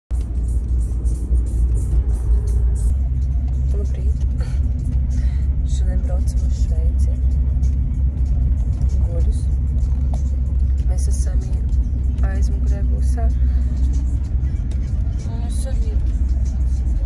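A car driving along a road in a vanlife setting, heard as a loud, steady low rumble of engine and road noise from inside the vehicle, with people talking over it throughout.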